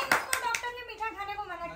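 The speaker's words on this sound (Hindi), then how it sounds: "तालियां बजाओ।" People clap their hands at a family Rakshabandhan gathering: a few sharp, close claps at the start, then a voice talking over the remaining soft sounds.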